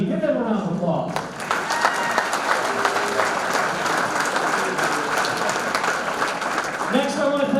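At a sports hall of fame ceremony, a crowd claps loudly and steadily for several seconds, with a voice talking just before the applause swells and again as it fades.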